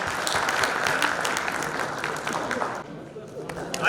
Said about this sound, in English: Please give a huge round of applause to Mr. Sunil